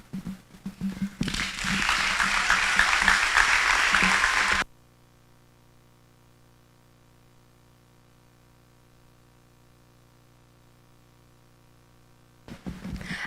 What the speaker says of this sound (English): another round of applause for Kamran Sheikh